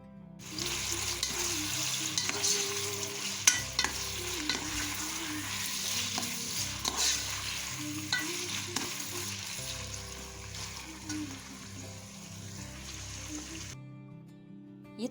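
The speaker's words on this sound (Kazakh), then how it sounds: "май қызған соң үстіне жаңағы туралған етімізді салып жақсылап қуырып аламыз" Sliced meat fries in hot oil for a Thai-style dish, a continuous close sizzle with intermittent scraping and stirring, fading to quiet at the very end.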